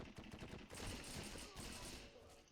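Submachine gun fire rattles in the shooter game Heroes and Generals, with rapid overlapping bursts of shots, loud and continuous, heard alone without talk.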